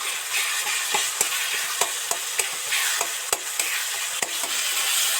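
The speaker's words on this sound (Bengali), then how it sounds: "এবার এই টমেটোগুলো খুন্তি দিয়ে আস্তে আস্তে গলিয়ে দেব" A spatula mashing and stirring tomatoes in a frying pan with onions for a Bhola fish curry: a constant bright sizzle broken by repeated sharp scrapes and taps against the pan.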